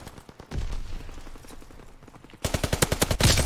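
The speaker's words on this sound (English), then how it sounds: "Keep firing." Gunfire in Call of Duty WWII, Shadow War DLC gameplay: a steady burst of automatic shots, then a louder, denser volley of rapid cracks near the end.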